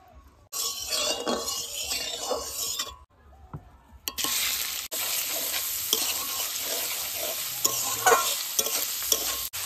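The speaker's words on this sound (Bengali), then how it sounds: "মাংসগুলো ছোট ছোট করে কেটে রেখেছিলাম ভালো করে ভেজে নেব। সর্ষের তেল দিয়ে দেবো।" Small-cut chicken pieces fry in mustard oil, a loud, steady sizzle with busy stirring and scraping, briefly dropping away before the frying surges back.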